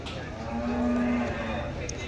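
A single long, low moo from a water buffalo at the Dhanaula livestock market rises over steady outdoor background noise and then fades, with no talking.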